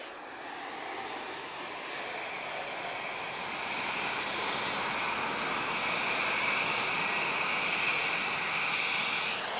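Airliner arriving at Lisbon Airport on a flight from Manchester. Broad, steady jet roar swells gradually and holds loud and continuous, with no voices over it.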